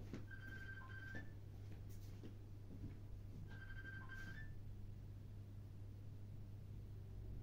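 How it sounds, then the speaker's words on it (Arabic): A telephone rings indoors in a home, two bursts of electronic ringing a few seconds apart, faint and distant over a steady low hum, with no talk. "التليفون بيرن جوه."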